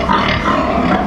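Sows grunting close by on a pig farm, a steady run of low, rough grunts filling the whole short moment with no talk over them.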